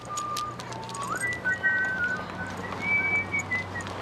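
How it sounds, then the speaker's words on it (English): A woman whistles a wandering, sliding tune, clear and fairly close, with a steady low hum underneath. "where is she going? And why is she whistling?"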